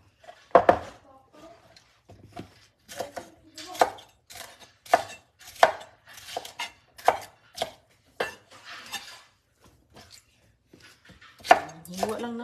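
Vegetables chopped with a knife on a board for a Filipino home-cooked dish, a series of sharp, close chops in an uneven rhythm, about a dozen strikes with short pauses between.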